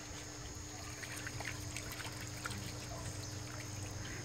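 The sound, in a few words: washing pak choi plant roots in water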